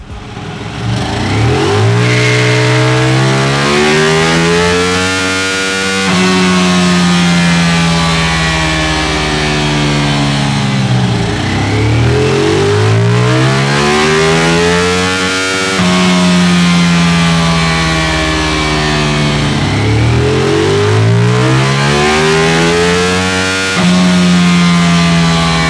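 New Ducati Diavel V4 motorcycle engine on a dyno, loud and close, climbing through repeated full-throttle rev sweeps that rise, drop back and rise again across the run.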